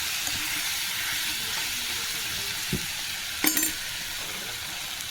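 Chicken curry with tamarind leaves stirred in a pot after salt is added, a steady soft sizzle under a few brief scraping clacks of the spoon, close and alone.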